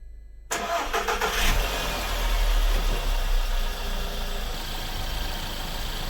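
A Volkswagen Golf engine cranks briefly, catches and settles into a steady idle, close and continuous after the start with no talk over it.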